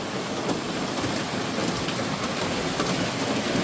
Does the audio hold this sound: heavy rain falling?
yes